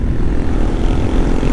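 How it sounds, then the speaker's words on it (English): Yamaha TW200 motorcycle fitted with a throaty DG aftermarket exhaust, heard as a loud, steady, low engine drone that continues without a break and with no voices over it. "It's got that DG exhaust on it. Sounds nice. This makes it a little more throaty."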